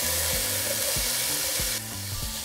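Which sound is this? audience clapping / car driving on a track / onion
onion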